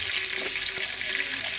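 Chicken pieces frying in hot oil for Kuzhimandi, a steady close crackling sizzle with fine bubbling hiss throughout, no talking.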